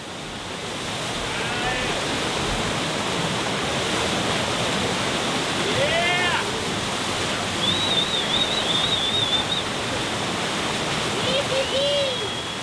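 Rushing water pours continuously through a river surf wave in the Black Forest, a dense, even roar with no breaks, while faint chirps of birdsong drift over it.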